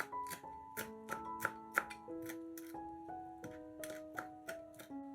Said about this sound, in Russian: Мелко нарезаем небольшой пучок петрушки.